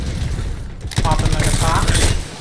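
Weapon reload in the shooter game Anthem: a short mechanical clatter and ratcheting click, followed by steady gunfire and machinery noise under a busy game soundscape.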